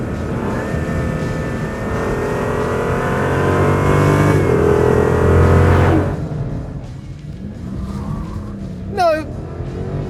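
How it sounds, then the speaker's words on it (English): A 2023 Chrysler 300C V8 sedan engine revs loudly and steadily for several seconds, then cuts off, leaving a quieter idle with a brief squeal near the end. "it makes all of the sounds of a 392"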